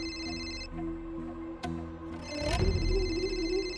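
A phone rings with a steady electronic tone, cut briefly before a clunk and rustle as it is picked up.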